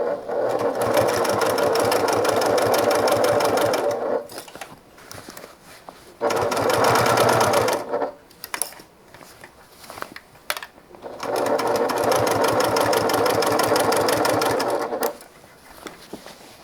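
A sewing machine stitches the bottom seam of a handmade bag with a half-inch seam allowance, running in three steady bursts of several seconds each, separated by short pauses with soft handling noises.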